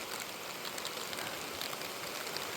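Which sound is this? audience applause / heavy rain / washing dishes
heavy rain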